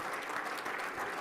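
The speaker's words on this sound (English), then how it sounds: "Give this group a big round of applause." A dense burst of audience clapping fills a digital engineering awards ceremony, steady and loud throughout the short moment.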